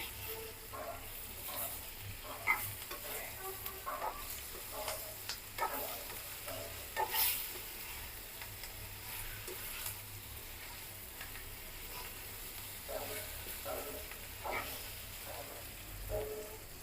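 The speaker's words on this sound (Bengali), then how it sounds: "বন্ধুরা এখানে আমি দিব শুকনা মরিচের গুঁড়ো দিয়ে ভালো করে নাড়তে হবে" Dry red chili powder being stirred into vegetables frying in a pan, a soft steady sizzle broken by repeated scraping strokes of a spoon at an even pace, close and unaccompanied by speech.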